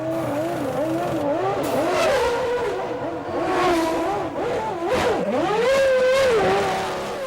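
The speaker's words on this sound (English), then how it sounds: "the Frenchman's Williams nosed out from the pit" A 1993 Williams Formula 1 race car pulls out of the pit lane after a tyre change, its high-pitched engine revving and rising through the gears, loud and close with tyre noise and no voices.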